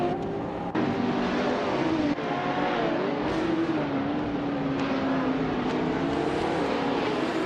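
Porsche and Lola prototype race cars in a racing video game scream at high revs, engine notes sliding up and down through corners in a continuous, loud, close drone.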